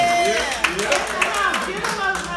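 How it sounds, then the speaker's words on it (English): Applause at an alumni anniversary gathering, scattered clapping under a speaking voice, with sharp individual claps standing out now and then. "Give him a round of applause"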